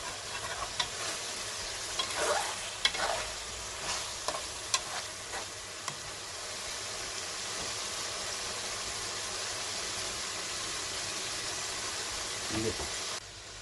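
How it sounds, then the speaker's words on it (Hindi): Chicken pieces frying in oil for a restaurant-style black pepper chicken karahi produce a continuous close sizzle, with stirring scrapes and clatters in the first half before it settles into an even hiss. "चिकन को 10 से 15 मिनट तक अच्छी तरह से ऑयल के अंदर भूनेंगे।"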